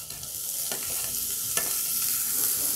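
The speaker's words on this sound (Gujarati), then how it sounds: "આદું મરચાં અને લસણને આપણે થોડી વાર સંતળાવા દઈશું." Garlic, ginger and green chilies are sautéed in hot oil in a pan for a stuffed potato paratha filling. There is a loud, steady sizzle with a couple of stirring scrapes, close up and with no talk.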